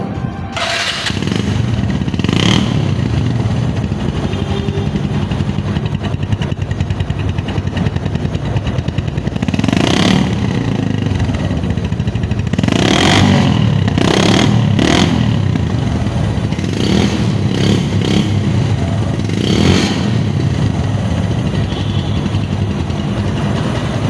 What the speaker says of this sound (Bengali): ডিসকভার 135-এর যে মূল আকর্ষণ, সেটা হচ্ছে ডিসকভার 135-এর সাউন্ড। সেই সাউন্ডটা আমি শোনাবো।